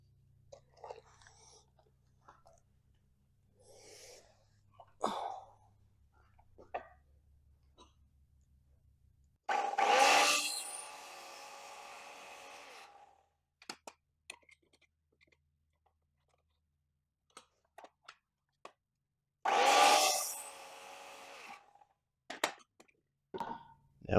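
A drill drives screws into a 2x2 wooden frame piece of a chicken coop tractor, two loud whirring bursts about ten seconds apart, with scattered clicks and knocks of handling in between.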